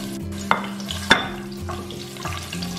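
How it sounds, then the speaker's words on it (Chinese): Ginger slices stir-fry in a little oil left in a wok, with a steady sizzle, a couple of sharp spatula scrapes and no talking. "锅留底油，下入姜片爆香"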